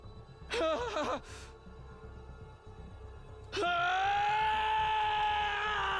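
A bestial scream of rage from a character in the video game The Hundred Line - Last Defence Academy, a harsh vocal outburst early on followed later by a sustained loud tonal roar that holds to the end.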